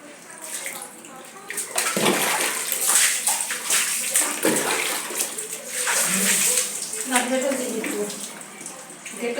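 Water splashes and pours continuously while an elderly woman is bathed, with steady sloshing and trickling close by and people talking over it.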